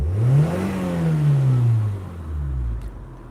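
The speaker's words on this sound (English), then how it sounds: "So I'll give her a rev up for you." A car engine revving once up and then dropping back to idle, close and loud, a smooth rising and falling tone with no talk.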